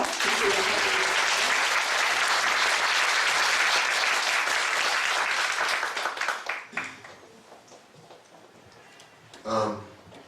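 Congregation at a church revival service claps in thanks for visiting church leaders, a dense, loud round of applause that thins and fades out, followed by quieter room sound and a brief burst of speech near the end.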